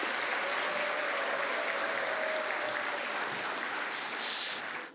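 Warm congregational applause fills a church for a promising young tenor, steady and dense throughout before tapering off at the end, with no talk over it.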